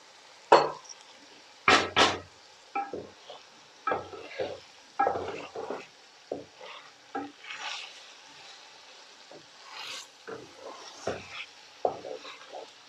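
Chicken balti being stirred and fried in a handi, with irregular clanks and scrapes of a utensil against the pot over a low sizzle, heard close up with no talk.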